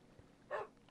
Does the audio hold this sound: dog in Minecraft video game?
yes